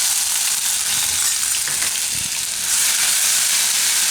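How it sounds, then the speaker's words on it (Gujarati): Cumin seeds, ginger, chili and garlic drop into hot oil for Gujarati urad dal kofta, giving a steady, close, bright sizzle that swells louder toward the end, with some stirring. "તો તેલ આપણે ગરમ મૂકી દીધું, એમાં આપણે નાખશું પહેલાં જીરું અને આદુ મરચાં લસણ."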